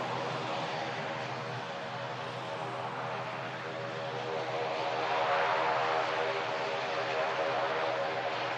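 ATR turboprop airliner passing with a steady, loud propeller drone and broadband rush that swells slightly toward the end, continuous and without talk.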